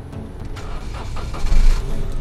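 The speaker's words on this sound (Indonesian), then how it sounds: "Kemudian kita coba nyalakan mesin." A 2019 Daihatsu Sigra engine starts up nearby: a short cranking whir followed by the motor catching and swelling louder as it settles into running.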